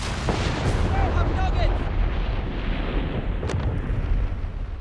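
Artillery fire rumbles through a Company of Heroes 3 battle over a town, with steady low booms and sharp cracks near the start and again toward the end, under a dense, continuous wash of combat noise.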